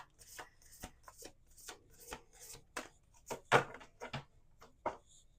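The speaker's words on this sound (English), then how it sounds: "We're going to do one more shuffle." Rapid riffling bursts of cards being shuffled, a series of short papery flutters and taps, fairly quiet and close, with no talking.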